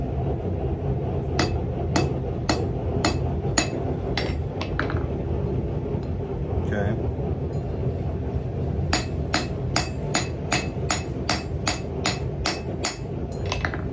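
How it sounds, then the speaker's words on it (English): Sharp metallic hammer blows on steel ring out over a steady background hum, first a few evenly spaced strikes, then a pause, then a fast regular run of hits while forging a hot cut tool from a jackhammer bit. "So get out my huge hammer."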